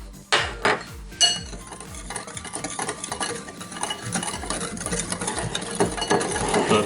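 A spoon stirs sugar and chocolate powder together for a microwave mug cake, making close, steady scraping and clinking against the container, with a few sharper knocks at the start and no voices.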